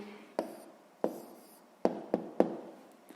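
Pen strokes on paper while writing an answer by hand, a few quiet taps and short scratches spaced irregularly and heard up close in a quiet room.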